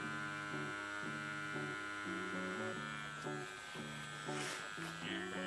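An EZ P2 Epic wireless tattoo machine running with a cartridge, a close, steady electric buzz whose pitch shifts in short repeated bursts as it works.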